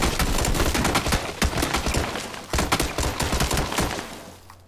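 Gunfire in the battle game PUBG comes as dense, loud, rapid bursts of automatic fire with sharp repeated cracks that run almost without pause, and nobody speaks.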